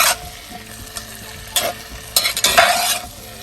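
Kielbasa hash with potatoes frying in oil, stirred with bursts of scraping and sizzling that grow busier toward the end, close and loud, no voices.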